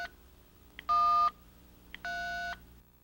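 Two electronic keypad beeps from a 1994 Motorola Deluxe Alpha pocket cellular phone while a code is entered, each a steady tone about half a second long, with short faint clicks just before each one in a quiet room.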